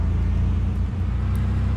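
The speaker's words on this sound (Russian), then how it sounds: "машина очень шумит" A car engine's steady low rumble and road noise are picked up by a microphone inside the vehicle, droning continuously and fairly loud with no voices.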